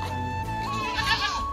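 A goat bleating in an Indian village, one wavering nasal cry rising and falling over a steady background hum, fairly close.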